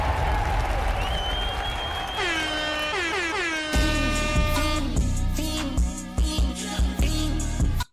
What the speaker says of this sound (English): Applause for the good pickup.